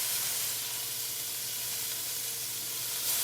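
Sausages for bangers and mash sizzle steadily in a hot pan, a dense, even hiss that holds throughout with no talking.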